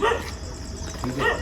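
Dogs bark outdoors at night at a plane crash site in Ahmedabad: a couple of short barks against a noisy background, with a person speaking briefly.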